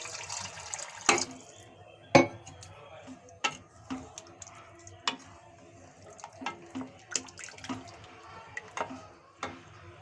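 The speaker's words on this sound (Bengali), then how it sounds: "মশলার সঙ্গে আলুগুলো আমি একটু কষিয়ে নিয়ে এখন দিয়ে দিচ্ছি জল।" Water is poured into spiced potatoes sautéed for shahi paneer, a quiet running splash under steady kitchen background with scattered clicks and knocks.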